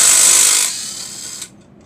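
A 12 mm wrench or ratchet works a tight cylinder head bolt on a blown Hemi engine, a brief close, harsh grinding rasp that fades out within about a second and a half.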